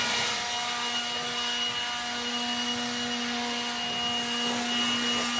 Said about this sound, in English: I'll blow some dust off and then we'll grab the skiddy.